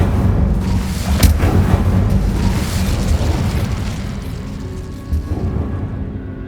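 A fiery Incendio spell explosion roars in Hogwarts Legacy, a sustained loud, rumbling blast with bursts and crackle that stays dense throughout before easing slightly near the end.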